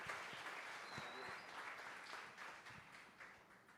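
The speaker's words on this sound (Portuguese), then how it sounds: "Dê uma salva de palmas aí para o pastor Manassés Loyola" Congregation at a Culto da Vitória church service applauding pastor Manassés Loyola, a steady, dense wash of clapping that stays fairly even throughout, somewhat distant and soft.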